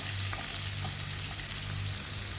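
Small onions fry in hot oil with popping mustard seeds for a Kerala-style drumstick leaves curry, giving a loud, continuous close sizzle with faint crackles and no talking.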